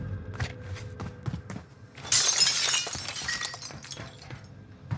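In the video game Warzone, a pane of glass shatters in one sudden burst partway through, followed by tinkling fragments amid quieter footsteps and game noise.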